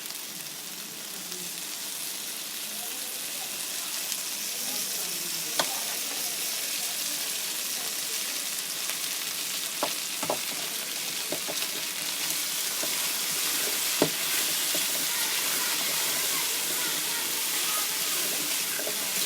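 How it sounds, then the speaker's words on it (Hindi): Taro root (arbi) frying in ghee in a pan for a village-style arbi and baingan curry, a steady broad sizzle running throughout with a few sharp pops and spatters, moderately loud and close, no talking. "बहुत ही कमाल की हमारी अरबी जो है ना फ्राई हो रही है"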